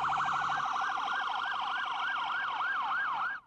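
A loud, steady wailing siren from a police escort rises and falls in repeated sweeps, with a following ambulance's higher siren tone layered above, cutting off abruptly at the end.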